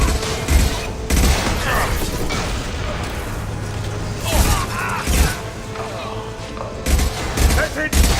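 Gunfire in the video game Mass Effect 2, with loud repeated bursts of shots and heavy impacts alongside mechanical clanks. Voices can be heard in the mix.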